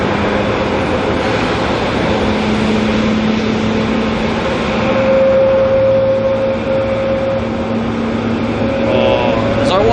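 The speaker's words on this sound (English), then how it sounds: "Listen to those engines spool." Jet engines spooling up on a parked airliner at Auckland Airport, a sustained roar with tonal whines that step up and hold, steady and moderately distant, with a further rising whine near the end.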